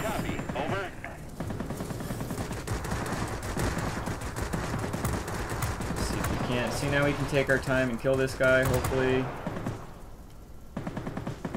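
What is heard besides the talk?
20mm cannon fire from video game World of Warplanes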